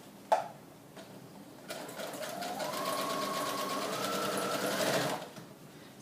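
Sewing machine stitching the pages of a handmade mini scrapbook together, a steady rapid mechanical whir running for a few seconds after a sharp click at the start, close and fairly loud, with no talking.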